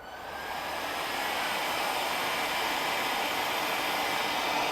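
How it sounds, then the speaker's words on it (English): Heat gun starting up and running steadily, a broad rushing blower hiss rising in the first second then holding constant, near and alone. "we can see when we turn the heat gun on what it's going to be pulling"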